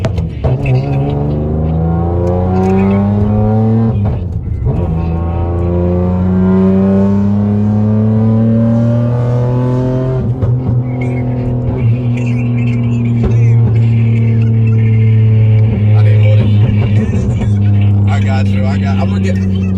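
A 6-speed manual swapped racecar engine roars up through the revs with strong harmonic whine, loud and close, under ongoing talk.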